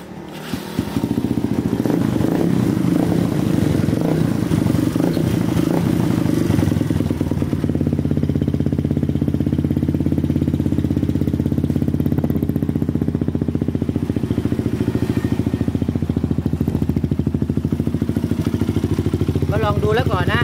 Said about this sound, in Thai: สตาร์ทหน่อยดีกว่าสตาร์ทเป็นไง